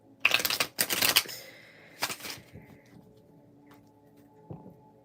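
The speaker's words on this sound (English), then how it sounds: "let me try to shuffle this big old deck" Big, old tarot deck being shuffled by hand: two dense bursts of riffling card flutter, then a shorter third riffle, followed by faint soft handling and a single light tap near the end, close and fairly quiet.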